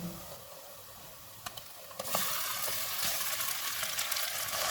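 Mutton frying with ginger garlic paste in a pot, a steady close sizzle that swells louder midway after a couple of stirring clicks, continuing alone without talk.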